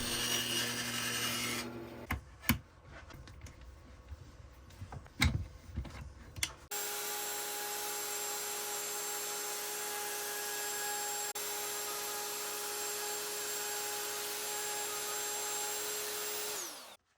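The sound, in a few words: bandsaw cutting around a wooden Grinch decoration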